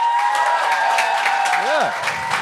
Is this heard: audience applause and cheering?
yes